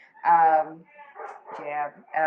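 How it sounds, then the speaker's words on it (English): Pet dogs whine and whimper in high, drawn-out cries with short barky yips between them, close by and fairly loud, in several bursts over a couple of seconds. "Please ignore my dogs. They are fine. They may not sound like they're okay, but they are fine."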